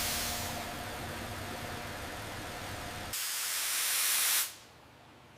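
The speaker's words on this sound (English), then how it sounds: "Steam from the hood indicates overheating." Steady hiss of steam escaping from under the hood of an overheating car engine, loud and broadband, then shifting to a brighter, higher jet before cutting off abruptly near the end.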